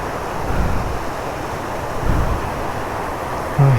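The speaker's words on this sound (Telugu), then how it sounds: "చూడండి ఇక్కడ వాటర్ ఫ్లో అనేది ఎలా వస్తుందో" River water rushes at the Sarada river dam near Anakapalle, a continuous broadband roar with wind buffeting the microphone and a brief thump near the end.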